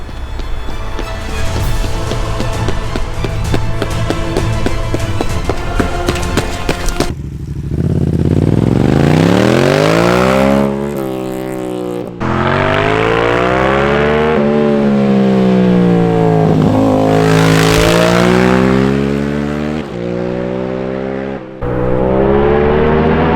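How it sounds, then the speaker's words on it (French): A motorcycle engine revs hard and repeatedly, pitch climbing and falling through sharp accelerations, loud and close after a stretch of rattling, idling mechanical noise. "vous avez pu entendre le petit son de la moto"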